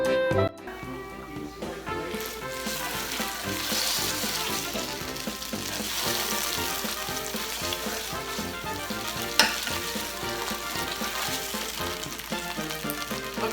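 Tomato paste sizzles and fries in hot oil in a pan, a steady dense crackle that stays close and fairly loud the whole time, with one sharper pop near the end and no talking.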